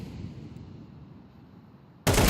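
A low, muffled rumble of Counter-Strike match ambience gives way to a single sudden, loud, sharp gunshot burst at the very end; no voices.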